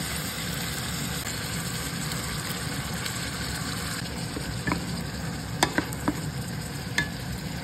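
Canned tuna and odong noodles are stirred in a pan under a low, even sizzle with a steady background hum, while a few soft scrapes and clinks surface toward the end.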